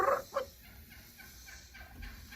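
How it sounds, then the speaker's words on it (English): Hen turkeys call faintly in the open near a deer herd, a couple of sharp yelps at the start followed by softer, scattered clucks and purrs spread across a quiet background. "You hear the hen turkeys talking?"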